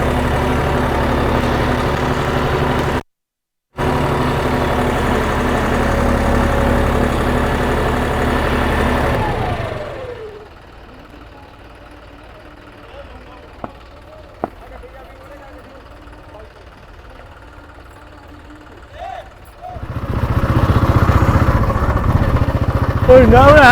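A modified John Deere 5210 tractor engine runs loud and steady with a deep low rumble, cutting out briefly, then idling quietly in the middle before roaring up loud again near the end.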